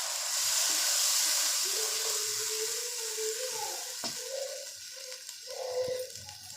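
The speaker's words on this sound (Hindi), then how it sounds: "ये देखिए, जब मसाला घी छोड़ दे तो समझो भुनाई हो गई है।" Tomato paste and spices fry in ghee for aloo matar, making a steady, moderate hissing sizzle with soft stirring scrapes and faint bubbling pops close by.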